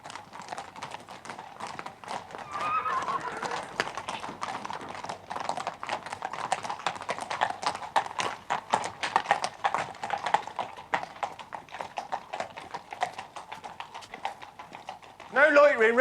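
A horse's hooves clip-clop in a steady, brisk rhythm on a hard surface for many seconds, moderately close, while voices speak over them.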